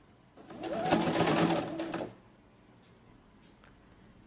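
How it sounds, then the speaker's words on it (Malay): A sewing machine stitches a fabric collar in a short, close whirring run of about a second and a half, then stops, leaving quiet room tone. "So kita teruskan je jahitan."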